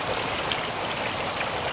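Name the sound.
water fountains splashing at Lusail Marina, Qatar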